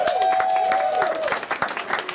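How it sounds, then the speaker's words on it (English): A comedy club audience claps and cheers in a brief burst of applause, a dense patter of hands with a whistle-like tone over the top, fairly near. "That's a cheap applause"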